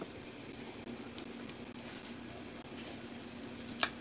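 Steady hissing and crackling of meatballs frying in hot grease, continuous throughout at moderate level, with a brief sharp click near the end.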